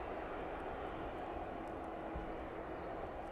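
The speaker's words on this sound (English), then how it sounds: "757 turning on to final for runway 27 now then" A Boeing 757 airliner on final approach to runway 27 at East Midlands, passing about 2,400 feet, gives a steady, broad engine roar that holds constant and fairly distant throughout, with no voices.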